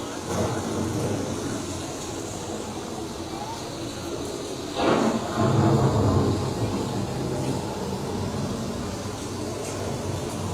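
Simulated thunderstorm inside an EPCOT attraction: a dense wash of rain-like noise with a single thunder rumble swelling near the middle, over a narrator's voice.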